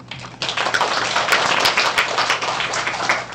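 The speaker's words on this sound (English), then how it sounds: "Let's give the judges a big round of applause." An audience at an English competition applauds the judges, a dense burst of clapping that starts abruptly and continues evenly for a few seconds.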